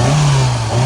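A Hyundai car engine, recently repaired for misfiring and with a cleaned throttle body, idles smoothly and steadily: a continuous low hum heard close by, with no talking.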